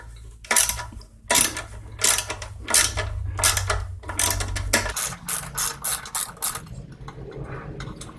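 A hand ratchet loosens 5/16 bolts on a 2002 Craftsman Tecumseh 4.25 HP engine, giving repeated bursts of sharp close clicking in uneven strokes that speed into quicker, tighter runs toward the end, with no voices.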